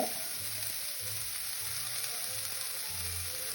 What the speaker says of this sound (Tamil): வெங்காயத்தை போட்டு இந்த சட்டியின் இதிலே நான் போட்டு வதக்க போகிறேன்